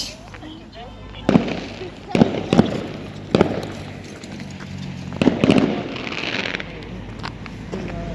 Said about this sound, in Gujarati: જોવા ફટાકિયા ફૂટે.